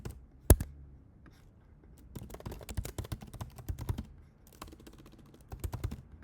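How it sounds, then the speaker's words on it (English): Keys clatter on a computer keyboard in quick, uneven bursts of close clicks, with a sharp tap early on and short pauses between flurries of typing. "I'm like typing slower."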